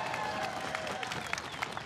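Crankworx Whistler Speed & Style crowd cheering and clapping steadily throughout, a dense wash of applause with whoops rising out of it, loud and close.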